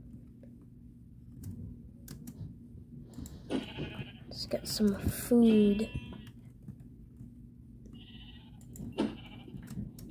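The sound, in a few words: sheep bleating in Minecraft video game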